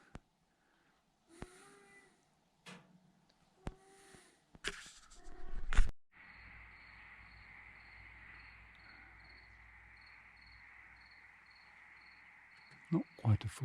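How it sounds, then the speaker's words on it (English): Steady high-pitched cricket chirping fills the night air after a few soft bumps and rustles, a continuous pulsing trill holding at moderate volume to the end. "And the crickets."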